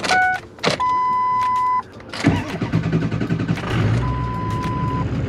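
A Ford 6.0 diesel truck engine with freshly replaced fuel filters follows a few dash chimes and a steady tone. The starter cranks, the engine catches, and it settles into a loud, clattering idle close by.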